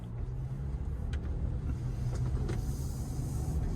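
A Kia Sportage cruises with a low, steady road and engine hum inside the cabin, smooth and even throughout with a few faint ticks and no talking.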